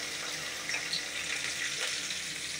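Water poured into a mixer jar to rinse out leftover masala, a steady close splashing and trickling wash that runs the whole time with no talk.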